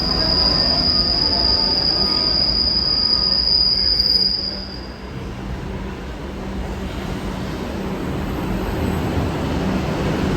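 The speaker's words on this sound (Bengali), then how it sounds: "দমদম থেকে ফাইনালি উঠে গেছি মেট্রোতে" A Kolkata metro train between Dum Dum and Dakshineswar screeches with a loud, sustained high-pitched wheel squeal over a steady rumble of the carriage on the rails, the squeal cutting out after about four seconds while the rolling noise continues.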